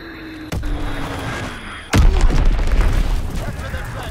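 Explosions from Fritz X guided bombs in the Call of Duty WWII video game: a sharp blast, then a heavier booming detonation with a long rumbling tail, over background game noise.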